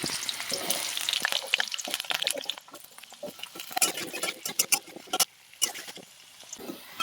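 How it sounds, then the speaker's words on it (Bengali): Potatoes fry in leftover oil in a wok, making an irregular crackle of sharp pops and sputters that grows busier and more spiky in the second half. No one talks over it. "কড়াইতে যে তেলটা ছিল সেই তেলটাতেই আমরা আলুগুলো এবার ভালো করে ভেজে নেব"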